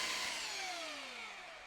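Steady, close-up whirring and rasping from power sanding a homemade Glock 17 holster, a continuous loud grind with a slowly falling tone and no talking.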